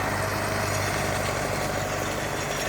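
An MTZ 920.2 tractor engine idles steadily nearby, a constant low rumbling chug with a faint mechanical hum and no voices over it.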